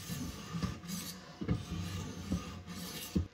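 A blade edge is drawn across a sharpening stone in slow, repeated rasping strokes, faint and close, with short scraping bursts spaced under a second apart.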